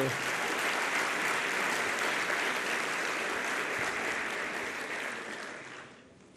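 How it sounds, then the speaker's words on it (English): Sustained applause from a lecture audience for a group of children, a dense steady crowd clapping that holds loud for about five seconds and then fades away near the end. "Let's give the children another round of applause."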